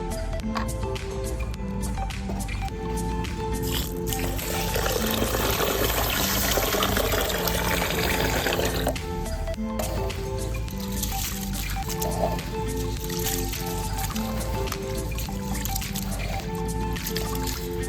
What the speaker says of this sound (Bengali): চাল ভালো করে ধুয়ে নেব।